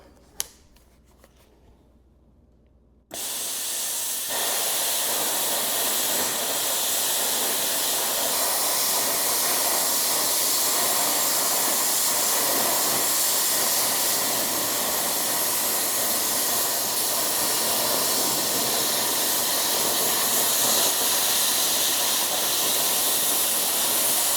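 A plasma cutter runs steadily on a hotdog strapped in place, a loud continuous broadband hiss that switches on abruptly after a few quiet seconds and holds without a break to the end.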